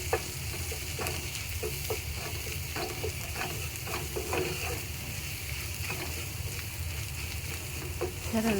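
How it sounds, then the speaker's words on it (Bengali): Spice paste and onions frying in oil for a prawn malai curry, a steady hiss with repeated scraping stir strokes close by, no talking. "এবার এই মশলাটাকে একটু তেলের মধ্যে ভেজে নেব"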